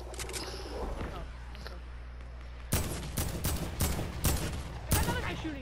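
Rapid bursts of gunfire in a Fortnite-style Team Rumble match, several sharp volleys starting midway and repeating through the rest, loud and close over a steady game background, with a voice talking faintly beneath.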